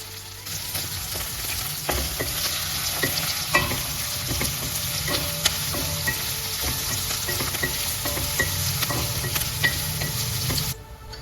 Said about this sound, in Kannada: 2 ಈರುಳ್ಳಿ, ಕೊಚ್ಚಿದ ಹಸಿ ಈರುಳ್ಳಿ ಎಲ್ಲ ಹಾಕ್ಕೊಂಡು ಚೆನ್ನಾಗಿ ಮಿಕ್ಸ್ ಮಾಡ್ಕೊಳ್ಳೋಣ